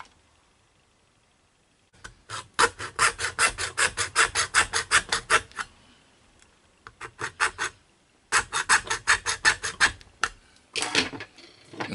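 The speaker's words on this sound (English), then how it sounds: "I have to make some space to cut this off to make a hole" Rasping strokes of a file or small saw cutting a hole in the plastic case of a Konami SCC MSX cartridge to fit a switch, in three close bursts of rapid rhythmic rubbing separated by short pauses.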